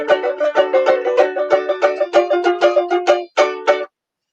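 A ukulele-banjo is strummed with a finger lift, giving a bright, rapid, rhythmic run of plucked chords close up, stopping abruptly near the end with no talking.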